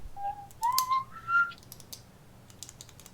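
A person whistles a short rising tune of a few sliding notes, clear but fairly quiet, while light keyboard tapping clicks in the background during a Euro Truck Simulator 2 session.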